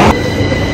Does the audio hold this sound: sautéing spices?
no